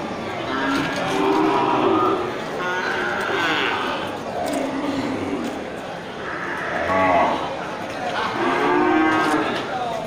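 Aceh cattle, including a bull, moo repeatedly, several drawn-out lowing calls rising over a busy, noisy cattle market crowd with people talking throughout.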